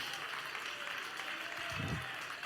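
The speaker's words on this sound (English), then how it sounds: "clap your hands and lift your voice and give him praise" A church congregation claps its hands in a steady, diffuse wash of applause that fills the room, with a faint low voice rising briefly near the end.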